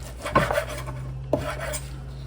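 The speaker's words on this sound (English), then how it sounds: "I'm going to start cutting up my bacon to go in here." Knife cutting up partly thawed bacon on a board for baked beans: two distinct scraping chops about a second apart over a steady background hum, close and fairly quiet, no voices.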